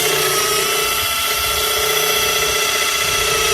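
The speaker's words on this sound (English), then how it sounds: "drill through." A power drill bores steadily through heavy barn timber to fit T plates for a barn raising, its loud motor whine and grinding held at an even pitch for the whole stretch, close to the listener.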